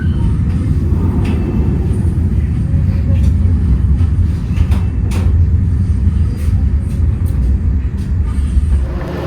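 Motis Utara passenger train pulling into Tegal station: a steady, loud low rumble of wheels and carriages, continuous and close, with faint sharper clanks scattered through it.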